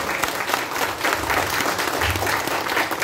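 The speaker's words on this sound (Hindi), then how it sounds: "सबैले एक जोडा ताली बजाउँदै पर्दा अलि मजाले बजाउँछ" An audience at a motivational seminar claps together in a sustained, loud round of applause, thick and even throughout, with a few low thumps underneath.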